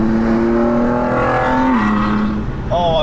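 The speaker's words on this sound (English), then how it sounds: "over my shoulder you'll see the Ford GT come past." A Ford GT drives past outside a car with its window cracked open, the engine note rising then falling as it goes by, loud and fairly near, with a fainter higher whine of revving at the end.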